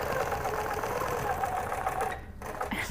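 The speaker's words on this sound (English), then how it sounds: "make sure your lines are squared up and over your stitches, and then just stitch around." A sewing machine runs in a fast, continuous buzz while stitching around a quilting template ruler, then briefly pauses and starts again.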